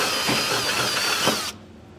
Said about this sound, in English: we're actually going to drill those from the top down.